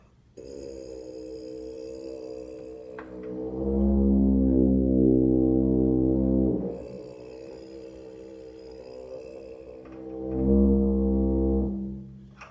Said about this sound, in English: the kind of buzz that I hear most people making when they practice buzzing their mouthpiece